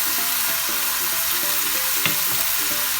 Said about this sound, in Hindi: इनको कीमे के साथ ही भूनते हैं मसालों को।